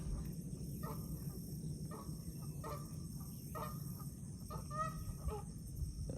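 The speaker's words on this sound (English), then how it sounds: "I hear another goose out there somewhere." Repeated honking goose-like calls at a distance, several short bursts spaced irregularly over steady outdoor background noise.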